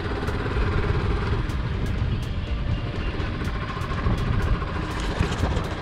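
A motorbike riding down onto a sandy beach near Digha and Talsari, a steady close engine rumble with wind buffeting, no voices.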